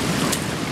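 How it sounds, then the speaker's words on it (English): Water from a small stream pours into the ocean at Oceanside beach in Oregon, a loud broadband wash of surf and flow with some wind buffeting the microphone. "Oh, we got a little stream here feeding into the ocean."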